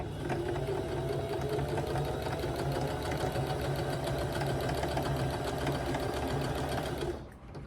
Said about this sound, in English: So I'm going to take it to the sewing machine, and I am going to